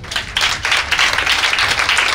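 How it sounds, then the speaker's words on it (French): A church congregation claps and applauds together, a dense, loud, continuous wash of hand claps that stays steady throughout without any speech. "On acclame Jésus."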